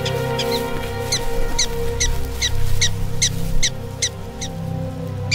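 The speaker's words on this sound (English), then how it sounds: "This particular call, one of at least 12 in the language of black-tailed prairie dogs, is specific to snakes." A black-tailed prairie dog gives its snake-specific alarm call: a rapid series of about eleven sharp, high chirps at a steady rhythm, over a low, constant background drone.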